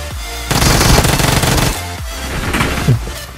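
Bursts of machine gun fire from BGMI, a battle royale game, rattle in rapid runs, with a long loud volley followed by shorter strings of shots and a separate louder report near the end.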